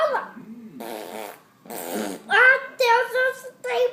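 A fart-like sputtering burst sounds alongside a small child's chatter and adult voices, with buzzy, stretched noises mixed among the speech.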